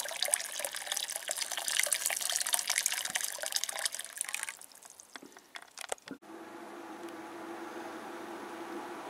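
Hot water poured into a container to raise the water for watering plants to about 22-23 °C, a steady splashing stream for several seconds that thins out and stops, followed by a quieter, even background hiss.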